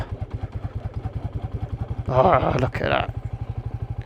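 A Royal Enfield Meteor 350 rides off-road in second gear, its engine thumping in a steady, close, even single-beat rhythm while the rider briefly speaks over it.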